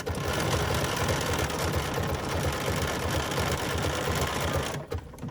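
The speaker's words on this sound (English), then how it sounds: "I'm using my dual feed because that's going to help feed my batting through the machine" A BERNINA sewing machine with dual feed engaged stitches through fluffy bamboo batting, a steady, loud, close mechanical whir with rapid needle clatter running continuously before easing off at the very end.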